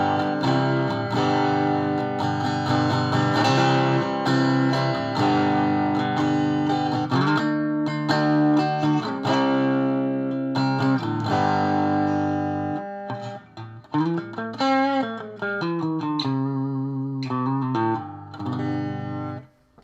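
Homemade Telecaster with single-coil pickups played through a Boss Blues Driver pedal into a Roland JC-40 amp, loud overdriven electric guitar with sustained notes, chords and bends, close and alone.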